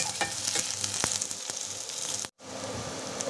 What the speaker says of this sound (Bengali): অল্প তেল দিয়েছি দিয়ে আর এই যে পেঁয়াজটা ভেজে নিচ্ছি